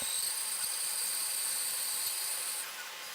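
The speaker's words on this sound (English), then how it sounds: "I ended up going back to the bandsaw and cutting out the bottom" A bandsaw cutting out the bottom of a sculpted wooden box piece, a steady close hissing whine of the blade through wood that drops off near the end, no voices.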